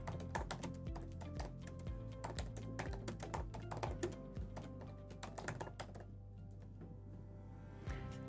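Rapid, continuous typing on a computer keyboard, close and clicky, with dense keystrokes that thin out briefly near the end.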